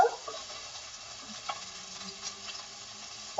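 Sweet onions hitting a hot pan with warmed cumin set off a steady, close sizzle and crackle that holds evenly throughout, with a brief stir-like scrape and no talking.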